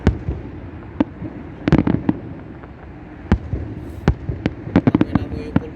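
Fireworks going off in the night sky, a scattered run of sharp pops and cracks, some single and some in quick clusters, moderately distant, with a few voices chatting between bursts.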